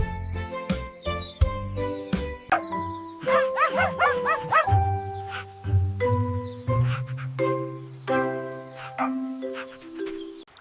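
A cartoon dog's series of barks and bow-wows in a 3D animation, some short and yipping, others longer, mixed with tinkling, chime-like tones in a bright, playful rhythm.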